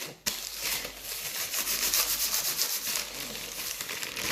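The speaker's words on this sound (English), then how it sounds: "you also want to put your money oil on your petition, just rub it in" Money oil rubbed by hand into a paper petition: a close, steady papery rubbing and scuffing that runs continuously after a sharp start, with no voices.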